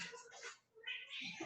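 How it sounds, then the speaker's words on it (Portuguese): Pet cats meow in a room, two or three short, close, soft calls in quick succession with a brief pause between them. "Olha, os meus gatinhos muito abusados."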